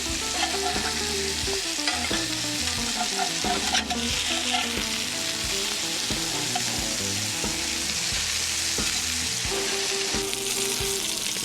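Sausage sears and sizzles steadily in a frying pan, a dense crackling hiss running throughout with light scraping and stirring clatter on top, close and fairly loud, no voices.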